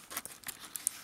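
Origami paper folded by hand, giving a short run of soft, crisp crinkles and creases, close and quiet, with no talking.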